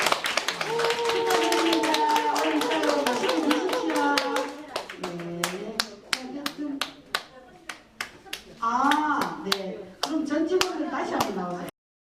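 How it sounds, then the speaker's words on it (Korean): Rhythmic group clapping for elderly birthday celebrants at a folk arts troupe performance in a nursing home, crisp handclaps mixed with voices speaking and singing over them. "생신을 주인공이신 어르신들한테 큰 박수 한번 가셔주세요"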